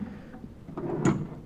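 Metal drawer of a garage toolbox sliding open, a short scraping rumble that ends in a soft clunk, close and moderately loud, with no talking.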